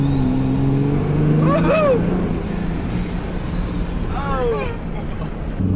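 A 1000-horsepower Cummins-powered truck accelerates hard from a 60 mph roll, a loud steady engine roar with a rising whine filling the cabin, while an occupant cheers over it.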